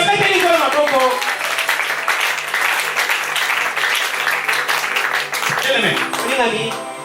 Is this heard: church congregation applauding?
yes